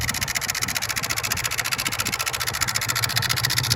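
A Suzuki RGV250M SP1 two-stroke motorcycle engine runs loud and close with a steady pulsing beat, its revs rising slightly toward the end.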